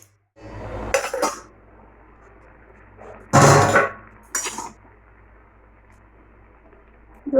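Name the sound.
cooking pot being covered with a lid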